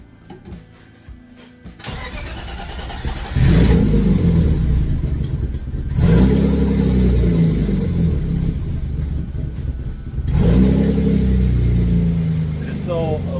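A BMW E36 engine cranks and catches, then idles and revs in uneven surges, running rough on a cold start and rumbling close by.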